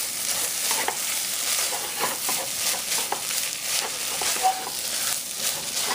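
Meat is stirred in a hot pan, producing a steady sizzle with repeated scraping and shuffling strokes of a spoon, close and fairly loud throughout.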